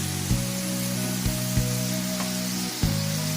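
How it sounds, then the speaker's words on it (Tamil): Potato fries in hot oil during a second fry for homemade French fries, giving a steady, dense sizzle with a few brief knocks on top and no talking. "இப்போ நம்ம இந்த பொட்டேட்டோவை திருப்பி நம்ம ஃப்ரை பண்ணி எடுக்க போகிறோம்"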